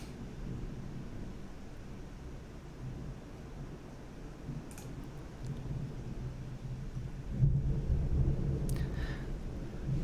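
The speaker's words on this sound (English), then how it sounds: "I'm in the storm right now, and I'm just hearing constant thunder" Low rumbling thunder rolls almost continuously through a severe September storm near Nolensville Road, with gusty wind noise on the microphone and a heavier swell of rumble late in the stretch.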